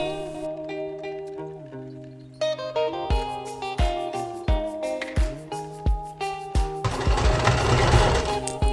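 A sewing machine running zigzag stitches along a folded fabric edge for a thrifted-material Mira costume, loud and close, its motor whirring in steady rhythmic bursts that pause and restart, ending in a faster continuous run.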